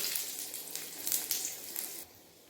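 Bay leaf, dry chilli, cumin and sugar tempering in hot oil for a fish-head cabbage curry make a soft, steady sizzle with faint crackles that eases off near the end.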